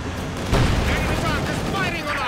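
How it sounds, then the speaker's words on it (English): Airstrike explosions in the World War II strategy game Company of Heroes 2 rumble as a dense, continuous barrage of booms and blasts, with a commentator talking over the battle. "And an airstrike going in there."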